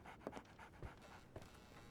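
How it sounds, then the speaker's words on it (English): A dog in the video game Sherlock Holmes The Awakened pants quietly in short, rapid breaths, faint and close, with soft shuffling noises in between. "So, Barnes has a dog now."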